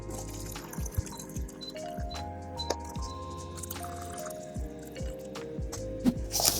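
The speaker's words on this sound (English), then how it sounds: "they have holes at the top where you can literally just pour out the water from the other side" Water trickles and drips as it is poured out through the holes in the lid of an instant noodle cup, with several small splashes and soft squishing sounds, close and fairly quiet.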